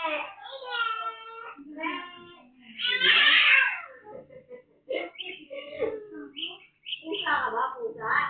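A young child mimics a cat's meow in a family home, several whiny voiced cries with a louder, raspier burst in the middle, broken by short pauses and mixed with childish babble.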